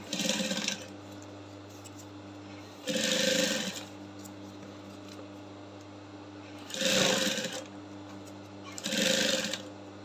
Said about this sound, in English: So I'm going to place another one at this edge, and I'll start to sew.